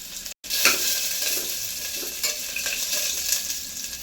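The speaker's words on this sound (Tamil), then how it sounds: "அந்த இஞ்சி பூண்டை போட்டு ஃப்ரை பண்ண போகிறோங்க" Crushed ginger and garlic hit hot oil after a brief silent gap, then crackle in a bright, dense, steady sizzle with faint stirring scrapes; nobody speaks.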